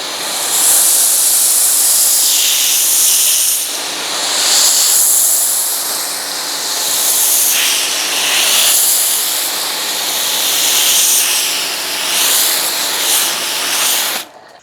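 A new Acme Tools pressure washer rated 2 GPM at over 1,000 PSI sprays soap mixed one ounce to 32 through a foam cannon, giving a loud, steady, close hissing spray that pauses and surges several times across the stretch, with no talking.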